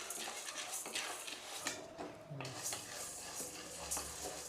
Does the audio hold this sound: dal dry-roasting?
yes